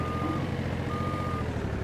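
Forklift reversing alarm in a forklift simulator video game, a steady high-pitched electronic beep repeating at regular intervals over a low engine drone, with no talking.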